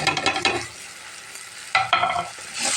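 Biryani masala, chilli powder and salt frying with ginger garlic in a pot for beef biryani, a loud close sizzle with two bursts of vigorous stirring and scraping, a quieter hiss between them, no voices.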